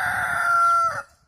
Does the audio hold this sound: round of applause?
no